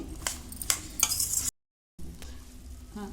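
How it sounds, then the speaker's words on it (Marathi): Yogurt, about two hundred grams, stirred into a homemade salad, giving soft wet scraping and stirring strokes with a few louder clinks, then a short pause before the stirring resumes. "दही आता मिक्स करून घेत आहे"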